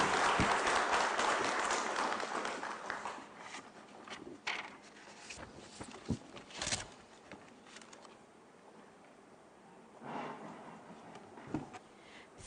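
Audience applause for a keynote speaker at a national education conference, loud and dense at first, then thinning to scattered claps and fading out over about twelve seconds.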